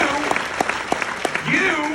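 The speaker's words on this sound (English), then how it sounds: "That's right, you clap for that." An audience applauds at a guest-speaker event, a brief, dense burst of clapping running under a man's amplified speech.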